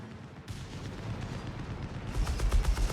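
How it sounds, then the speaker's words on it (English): Mortar and artillery fire in the World War II strategy game Company of Heroes 3, a dense rumble of booming impacts and gunfire that builds louder toward the end, with no talk. "Fresh assault here with mortar support."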